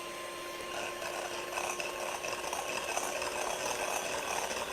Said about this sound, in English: we want to beat these egg whites up for quite a while until there's a stiff peak